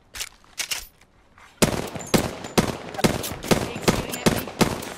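Gunfire in the Apex Legends video game: a few scattered shots, then a steady run of loud, sharp rapid-fire bursts close up.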